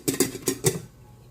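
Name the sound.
covering a cooking pot with its lid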